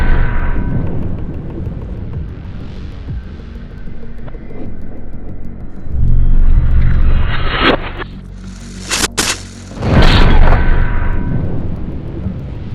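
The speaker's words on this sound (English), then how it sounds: "Mighty fine shot by me" A rifle round with M4-like velocity fired from 120 yards at a Russian Altyn titanium helmet, outdoors: sharp, loud cracks rise out of heavy, rumbling wind noise that fills the background, with no voices.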